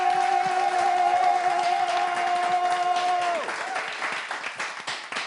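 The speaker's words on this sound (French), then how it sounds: "Je veux vraiment que vous vous applaudissiez une fois encore." An audience at a live show breaks into steady, dense applause, with sustained musical tones underneath that cut off partway. The clapping then carries on alone and thins slightly.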